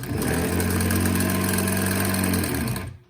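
A sewing machine stitches a straight dart on a cloth face mask, a loud, steady, close motor whir lasting about three seconds before stopping abruptly.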